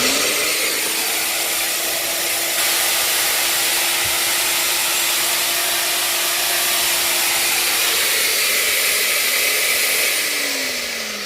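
A core cutter drill machine runs continuously at a loud, steady high-pitched whine with a constant motor tone, close by, then starts to wind down at the very end, with no talk.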